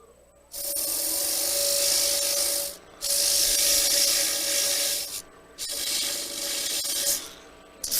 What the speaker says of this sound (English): it's just a kiss with the other sandpapers to remove the grit marks of this one